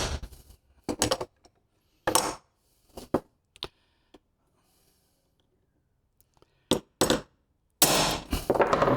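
Sharp metallic hammer strikes on a punch during wear-and-tear repairs to a Jayco camper trailer, coming as separate close knocks and short bursts with pauses between them, with no talking.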